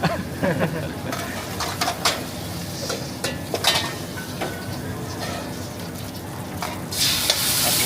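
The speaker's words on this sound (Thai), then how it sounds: "ผัดไม่ได้หยุดนะครับ" Fried rice is stir-fried in a wok at a busy Chiang Mai street stall, with continuous loud sizzling and repeated metal clanks of the spatula against the pan, and occasional voices nearby.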